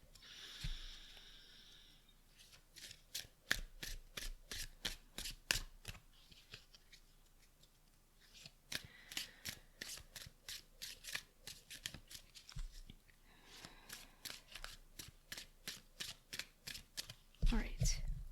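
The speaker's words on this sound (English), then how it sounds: "one last shuffle" A deck of tarot-style cards being shuffled by hand during a pick-a-card reading, repeated crisp riffling bursts in several rounds with short pauses between, close and fairly quiet.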